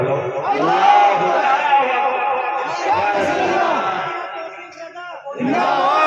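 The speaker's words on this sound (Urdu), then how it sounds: "کھڑے ہو کے لگاؤ، شرما مت، نعرے نہ شرما" A crowd at a wedding gathering shouts a religious slogan in unison. One long, loud, massed chant swells and holds for several seconds, drops briefly, then a second shout bursts in at the end.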